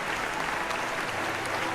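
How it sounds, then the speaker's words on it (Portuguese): Steady, dense clapping comes from a small group of players during a Dungeons & Dragons 5th edition tabletop session, a brief, even wash of applause at moderate volume. "A gente levanta e aplaude."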